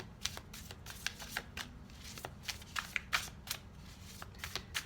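Tarot cards are shuffled over and over, giving a faint, steady run of soft riffles and sharp slaps over a low background hum.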